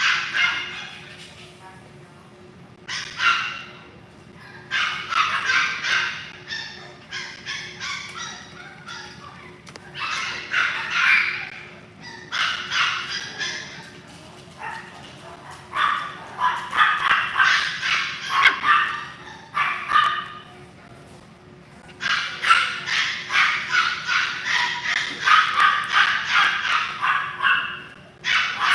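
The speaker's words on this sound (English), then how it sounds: "Sorry for the noise. We do have some other dogs in the back that just want their playtime." Several dogs kept in the back at a Yorkie breeder's kennel bark and yip in repeated bursts, moderately distant, with short pauses between volleys.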